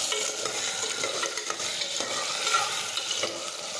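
Potato curry is stirred in a pan, a spatula scraping and tapping in irregular strokes over a light continuous sizzle, close and with no voices.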